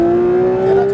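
A Porsche 992 GT3 RS engine on the Le Mans Maison Blanche track holds a loud, steady, close-up drone as it accelerates, the pitch rising slightly through the short burst.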